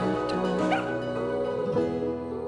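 Dogs yip and whimper in a Super Bowl commercial featuring Labradors and Percheron horses. The short, high cries come in bursts over a steady, full background.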